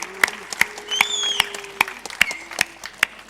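Sharp, regularly spaced claps ring out over a mixed background with brief tonal sounds, like a small audience applauding steadily at an EVE Online PvP finals event.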